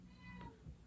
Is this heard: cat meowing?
yes